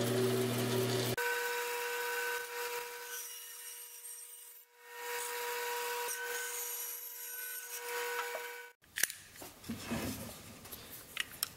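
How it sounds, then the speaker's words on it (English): A bandsaw cuts through a wooden log being shaped into a bluebird house, a steady, fairly loud whine and rasp of the blade in the wood that breaks off near the end, followed by brief clunks. "For this next cut, I have to position myself behind the bandsaw"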